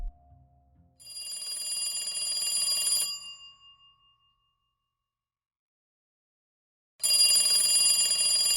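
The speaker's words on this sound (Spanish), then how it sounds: "Unos días después, suena el teléfono en casa de los candidatos." A home telephone rings with a bright, electronic trill in two bursts, the first lasting about two seconds and fading out, followed by silence before the ringing starts again loudly.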